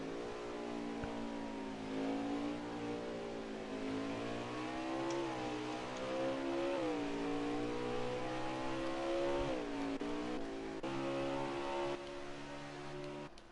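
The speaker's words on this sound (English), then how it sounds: "Listening to the engine of the 22, he's definitely not saving. He is full throttle on that little straight" The #22 Xfinity Series race car at Mid-Ohio is held at full throttle on a short straight, a loud sustained engine wail that rises and dips in pitch with gear changes, with no talk over it.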